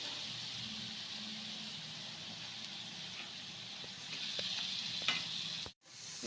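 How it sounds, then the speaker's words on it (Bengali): A ground paste of ginger, onion, garlic, chili and cumin is sautéed for an egg curry, giving a faint, steady sizzle in the pan with occasional soft scrapes of stirring. "এটা আমি এর মধ্যে কষিয়ে নিচ্ছি ভালোভাবে"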